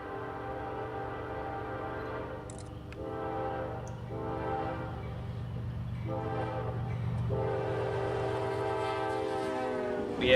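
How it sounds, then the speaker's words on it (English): An intermodal freight train carrying truck trailers and shipping containers rolls past with a steady low rumble, while its horn sounds in several long, loud blasts. "The solution to this is a train such as this one, an intermodal train."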